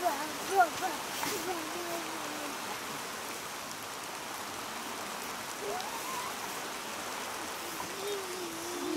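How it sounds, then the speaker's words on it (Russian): Rain falls outdoors in early spring as a soft, even hiss that carries on throughout, with faint voices murmuring in the background. "Не такой дождина."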